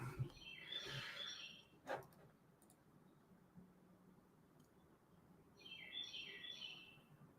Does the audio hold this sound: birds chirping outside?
yes